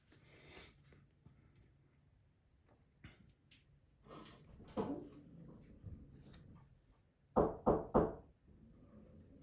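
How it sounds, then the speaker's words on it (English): Three quick, loud raps on a door stand out near the end, following softer scattered knocks and handling noises in a quiet room. "No, somebody's at the door."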